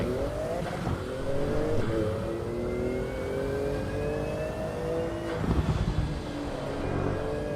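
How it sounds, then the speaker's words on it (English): Ford Mustang engine revving hard in the Assetto Corsa EVO or Project Motor Racing sim, a steady loud drone climbing in pitch through the gears with two brief dips at the shifts, no talk over it. "Mustang does sound good, I gotta say."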